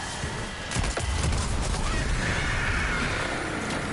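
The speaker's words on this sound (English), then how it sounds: "Got another void explosion." Void explosion from a Titan build in Destiny 2, a dense burst of blasts and crackling game effects that swells loud and stays busy throughout.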